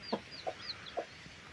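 A broody hen sitting in a clay nest gives soft, repeated clucks at an even, unhurried rhythm, close by and fairly quiet.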